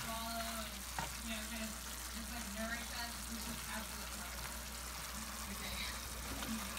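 Raw garlic frying in a pan for beef tortillas, giving a steady low sizzle that runs the whole time alongside faint clinks of stirring, with talk over it.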